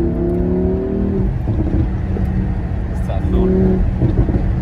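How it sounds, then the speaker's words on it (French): A Lamborghini supercar's engine revs in short bursts, with crackling exhaust pops on the overrun, while someone talks over it fairly loudly. "On entend aussi les retours que ça pète."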